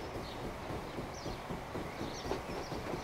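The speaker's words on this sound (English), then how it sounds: "you get to hear the nice steam train, don't you?" A steam train in the railway-building video game Transport Fever, heard as a steady, faint rolling rumble with a rhythmic clatter and some light higher chirps over it, no voices.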